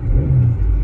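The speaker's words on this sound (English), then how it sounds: "when I put it on sport mode, you can hear the engine went," A Porsche Panamera 4 E-hybrid engine in sport mode gives a brief, loud, deep rumble like a rev, steady for under a second with no talk over it.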